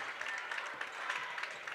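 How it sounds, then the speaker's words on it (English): Basketball fans in a high school gym clap steadily during a boys' sectional semifinal, a dense mid-level patter of many hands continuing throughout without letup. "Lions fans starting to clap it up."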